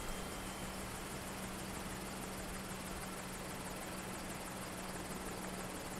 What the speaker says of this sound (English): You can already see the Osprey rotor starting to slow down.